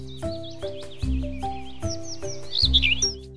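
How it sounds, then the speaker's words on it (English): Several short bird chirps and tweets repeat at a steady rhythm, close and clear, with a busier burst of calls near the end. "Birds!"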